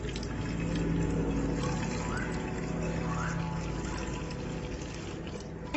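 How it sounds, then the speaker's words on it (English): Water pours steadily into a homemade bird water feeder made from waste materials, a continuous close-up splashing and trickling that holds an even level for about six seconds. "I'm done with the water filling."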